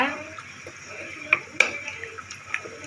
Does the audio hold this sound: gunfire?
no